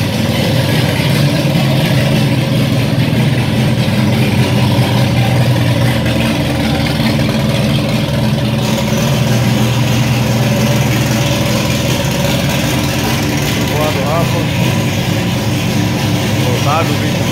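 Strong turbocharged 20-valve car engine idling loudly and steadily at a racetrack paddock, with a constant low rumble, people talking nearby and faint engine blips toward the end.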